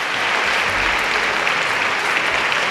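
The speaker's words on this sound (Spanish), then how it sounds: "Aplausos para él." At a town fair proclamation event in a cultural centre in Úbeda, the crowd breaks into loud, dense applause for a DJ, a steady roar of clapping with no pause, with faint voices mixed in.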